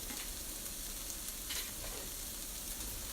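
Bacon strips sizzling in a pan alongside corn and onions for a chowder, a dense steady hiss throughout with faint brief crackles, moderately quiet and without talk.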